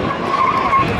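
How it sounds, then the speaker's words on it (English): A drag car doing an unusually quiet burnout on the back straightaway at Seekonk Speedway, giving a brief, steady tire squeal heard from a distance. "the quietest burnout in the history of burnouts ensues on the back straightaway"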